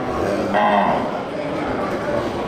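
Cattle and buffalo at a busy livestock market, with a low bovine moo rising briefly over a loud, constant crowd din and background chatter.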